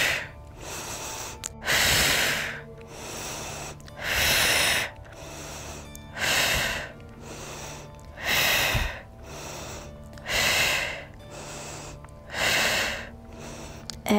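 Forceful exhaled breaths during a yoga exercise, about seven sharp bursts through the nose spaced roughly every two seconds, close and loud with short pauses between.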